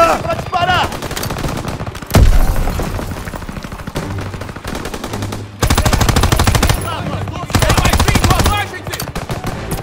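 Loud, sustained automatic gunfire in the Call of Duty WW2 video game, with dense overlapping bursts and repeated heavy blasts across the whole stretch; no one speaks over it.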